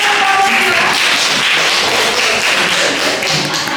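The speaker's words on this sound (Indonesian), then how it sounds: "kita tepuk tangan dulu" Applause from a high school class during a Pancasila lesson at SMAN 1 Wonosari, a dense, steady clatter of many hands clapping together for several seconds.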